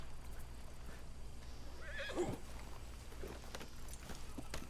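A horse in the Red Dead Redemption 2 video game gives one clear whinny, its neigh rising and then falling, over a constant low outdoor ambience with soft hoof sounds now and then.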